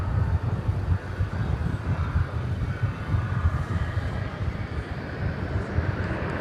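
An Airbus A321neo arriving at Dallas Fort Worth airport on a flight from Cancun gives a steady, moderately distant low engine rumble that holds evenly throughout, with no voices.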